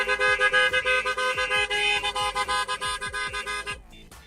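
Ford Transit Custom van alarm horn sounding after a heavy impact, a rapid series of loud repeated honks pulsing evenly for about four seconds, close and alone.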